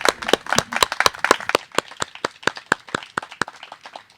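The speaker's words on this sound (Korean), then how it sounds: "큰 박수 하겠습니다" Brisk applause from a small church congregation at a baptism service, rapid overlapping claps that start dense and thin out toward the end.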